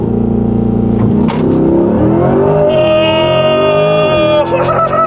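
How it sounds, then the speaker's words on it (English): A 2024 Chevrolet Corvette E-Ray hybrid making a 0-60 launch, the engine note climbing steeply in pitch as it accelerates hard, loud and close from inside the car, with excited voices in the background. "0-60 launch in the E-Ray, here we go."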